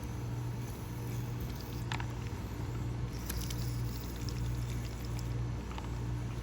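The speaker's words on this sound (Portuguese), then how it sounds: "E aí você vai dar jatos de água dentro da narina." Distilled water is squirted from an adapted pipette tip into a fish's nostril, giving soft wet pouring and pattering with a few faint clicks over steady low background hum.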